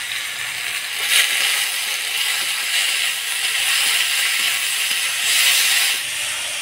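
Boiled taro stolons hitting hot oil spiced with black cumin and chopped onion give off a loud, continuous broadband sizzle that swells and eases in waves, with no talking.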